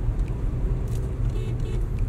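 Skoda Kushaq 1.0 TSI turbo petrol SUV, 2021 model, cruising on a highway: a steady, continuous low engine and road rumble with tyre noise, even in level throughout and no talk over it.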